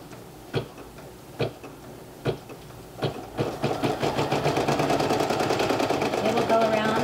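A single needle embroidery machine stitching underlay around a two fabric applique design, with a few spaced clacks before the needle settles into a fast, even, close rattling rhythm that runs to the end.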